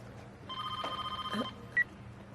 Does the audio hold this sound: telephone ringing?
yes